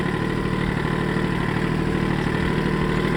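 A Kubota tractor engine idles steadily up close, a continuous low rumble with no change in pitch and no voices over it.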